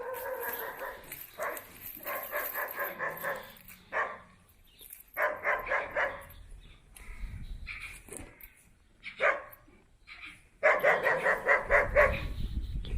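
Kangal and Anatolian Shepherd dogs bark in repeated bursts, several animals at once, fairly loud and near, with pauses between volleys and rough outdoor noise.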